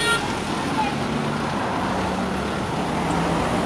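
Steady stream of cars rolling along Hagley Park Road, a continuous close roadway hum with tire noise and engine rumble, no pauses in the flow, with a voice talking faintly over the traffic.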